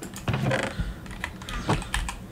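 Steady keyboard and mouse clicking during a Vault Hunters gaming session, dense and continuous clatter recorded close to the microphone.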